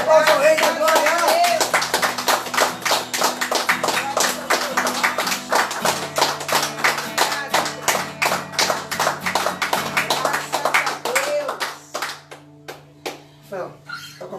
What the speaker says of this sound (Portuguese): Um forte aplauso ao Rei da Glória.